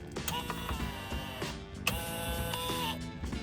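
A steady mechanical whir with tonal whine from a Can-Am Maverick Turbo four-wheel drive actuator engaging, with a brief click near the middle, running continuously at moderate level.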